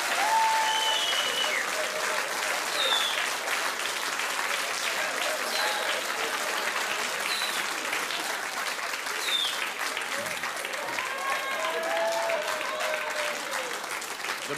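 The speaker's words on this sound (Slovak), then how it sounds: "Zaslúži si veľký potlesk" Steady, sustained applause from a large audience at a live televised children's-day charity stage show, a dense wash of clapping that holds at an even level throughout without pauses.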